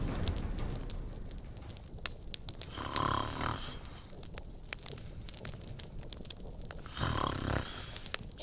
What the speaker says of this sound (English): She snores worse than you.